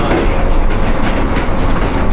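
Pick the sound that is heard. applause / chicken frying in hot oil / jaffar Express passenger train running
jaffar Express passenger train running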